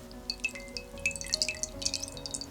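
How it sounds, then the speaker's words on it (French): Water drips and trickles softly as rinse water is poured out of a bowl after beef has been washed in clear water, with small splashing plinks close by. "Videz l'eau."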